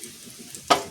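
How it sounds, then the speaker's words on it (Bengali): Chopped onion hitting hot oil in a kadai: a quiet low hiss first, then two sudden loud bursts of sizzling close by, with no talk. "দিয়ে দেবো পেঁয়াজ কুচিটা।"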